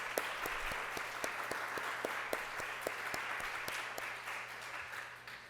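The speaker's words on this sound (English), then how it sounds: "Can we get a big round of applause for all of our presenters?" An audience at a book launch event applauds steadily for the presenters, a dense, even wash of clapping sustained throughout with no speech over it.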